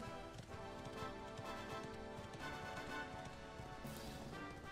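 Horse hooves galloping in the video game Dragon Quest XI, a fast, even clip-clop rhythm under continuous game music at moderate loudness.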